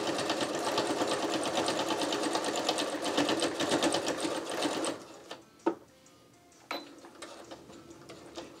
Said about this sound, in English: The backstitch goes so slow on this.